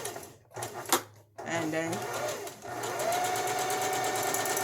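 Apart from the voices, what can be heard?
sewing machine stitching, with back stitch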